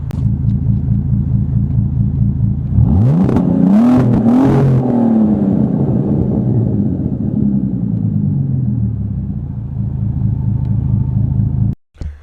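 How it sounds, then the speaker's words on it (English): A Bentley Continental GT engine idles with a low rumble, then revs up sharply twice in quick succession before settling back to a steady idle. "Couple of quick baby revs."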